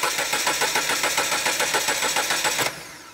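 The starter motor of a concept van cranks the engine with a loud, rhythmic, even chugging for nearly three seconds, then releases and fades to quiet without firing. No one speaks.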